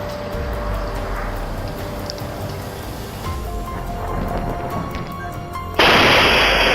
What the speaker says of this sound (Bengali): এখানে এই ব্যক্তি প্লেনের ভিডিও করছিল, কিন্তু হঠাৎ করেই সেখানে বজ্রপাত ঘটে।